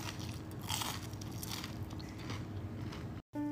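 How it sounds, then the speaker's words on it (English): Crunchy panko-breaded food, air fried with a light spray of olive oil, being bitten and chewed up close, a steady crackling crunch that runs throughout at a low level, with no talking. "Now listen to this crunch."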